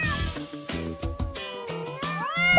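A cat meows in a short series of tonal, wavering calls over a busy musical backing, with rising and falling pitch in the last second.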